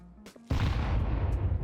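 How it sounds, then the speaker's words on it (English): A grenade exploding in CS2, one sudden loud boom after a short game tone and click, then a rumbling tail that lingers to the end. "the grenade will explode right on top of the CT, giving them a lot of damage"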